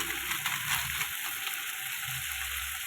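Coriander leaves and cumin fry in a pan for tomato bath, giving a steady, moderate hiss with faint stirring knocks underneath.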